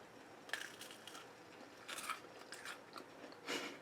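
Homemade crackers are bitten and crunched close up: a few quiet, crisp crunches and chewing bursts spread over a few seconds, with no talking.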